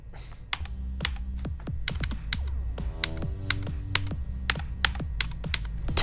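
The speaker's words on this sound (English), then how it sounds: "Time for another RGB keyboard!" Typing on an RGB computer keyboard sounds as rapid, irregular clacking keystrokes, close and fairly loud, with steady bursts of taps and no talking.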